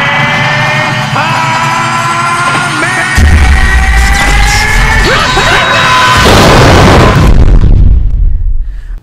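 A Kamehameha energy blast explodes in the fighting game Jump Force with a loud, roaring burst and heavy booming crash, layered with shouting and sustained whooshing effects that build and then cut off.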